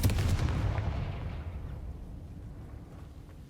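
A Confringo fire spell exploding in the Hogwarts Legacy video game, a single loud booming blast at the start that rumbles and fades away over a few seconds.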